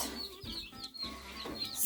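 Backyard hens, barred rocks, buff Orpingtons and Easter eggers, cluck softly and intermittently close by in a quiet setting.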